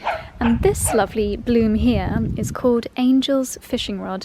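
A dog barks and yips in the background of a garden while someone talks steadily in the foreground, the barks partly buried under her voice.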